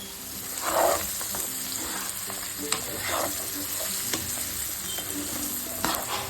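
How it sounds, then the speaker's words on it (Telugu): Bitter gourd deep-frying in hot oil with chili powder, a steady sizzle broken by repeated scraping stirs and small clinks of the spatula against the pan, close and alone. "ఇలా తిప్పుకొని డీప్ ఫ్రై చేసుకోవాలన్నమాట."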